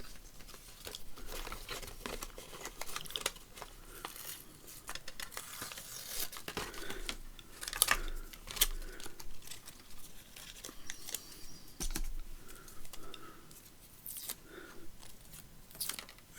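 Mint-coloured tape being peeled and picked off the pages of an old book, with quiet tearing, crinkling and paper rustles in irregular bursts, close and soft, with no talking.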